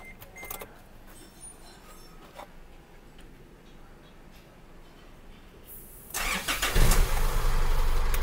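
A car engine cranks and catches during a check-engine test in a repair shop, following several seconds of low idle background and faint clicks, then running loudly and steadily.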